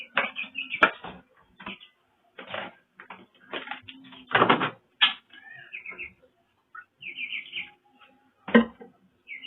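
Caged kerak basi birds chirp in short bursts of high twittering calls, close and fairly loud, with quiet gaps between phrases and some lower chattering notes.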